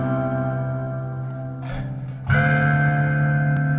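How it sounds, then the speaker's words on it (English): A sustained synthesized tone runs through a hall reverb effect patched on a ZOIA modular pedal, with a brief swell around a note change and a lingering, washy tail. "I did a hall reverb."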